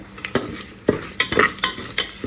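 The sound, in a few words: frying lentils in oil for mango chitranna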